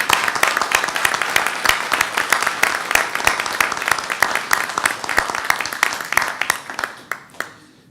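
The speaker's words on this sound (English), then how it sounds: "And I'd like to give you a round of applause." A room at a state wildlife commission meeting breaks into a full round of applause, dense and sustained for several seconds before thinning out and stopping near the end.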